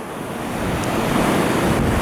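Rough sea surges and washes over the rocks of a bay shoreline in stormy weather, a loud continuous roar of surf that swells slightly, mixed with heavy wind buffeting, no voices.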